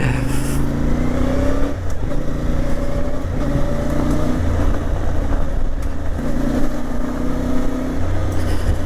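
A CFMoto 450MT motorcycle engine hums steadily while riding, a continuous even drone with slight shifts in pitch and a constant rush of wind throughout.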